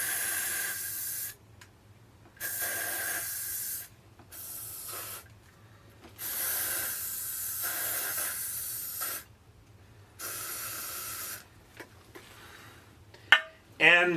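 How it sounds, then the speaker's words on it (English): Antifungal foot spray hisses into shoes in several separate bursts of a second or two each, with pauses between them, close and fairly loud, followed by a couple of brief clattering knocks at the end. "this is antifungal spray designed to keep your shoes itch-free"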